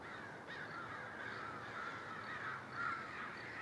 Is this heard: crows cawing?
yes